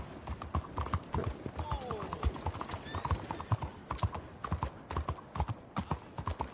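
Rapid clip-clop of horse hooves in the online western game Red Dead Redemption 2, steady galloping beats running throughout, fairly close, with faint gear-like clinks mixed in.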